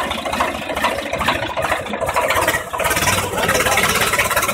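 A Swaraj 855 FE 55 HP tractor engine labours steadily while pulling a heavily loaded trolley of about 35,000 kg, giving a loud, continuous mid-pitched drone with a rattling edge and a brief dip partway through.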